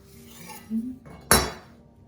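A knife cutting through a poppy seed cruffin pastry on a plate, a short scrape followed by one sharp ringing clink of cutlery against dishware, close and alone.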